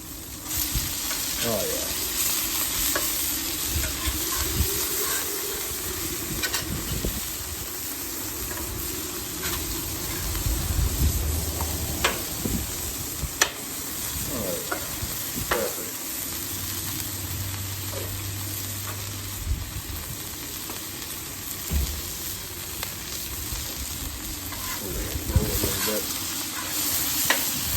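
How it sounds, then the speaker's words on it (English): Bacon cheddar burgers sizzle on a grill just after flipping, a steady crackling fry with spattering grease, a few utensil scrapes and knocks, loud and close, with brief talk over it. "I'm gonna flip these burgers"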